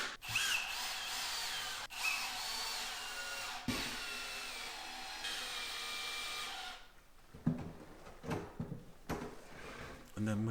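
Wooden drawers slide back into a fitted wardrobe on a site build, with a long scraping glide of wood on wood, sharp knocks as they seat, and lighter bumps and rattles afterward; a person talks over part of it.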